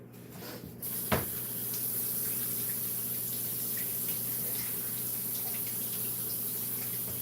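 Tap water running steadily while pig intestines are rinsed during home butchering, a constant close rush with a brief knock near the start and no talking.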